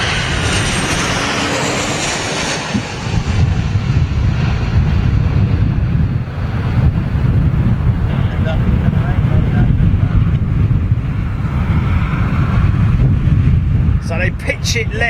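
An airliner lands in a strong crosswind at London Heathrow. A continuous broadband engine and wind roar carries throughout, buffeted by microphone wind noise, with someone talking over it.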